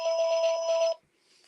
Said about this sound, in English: I'm glad they brought back this Ringtone number 1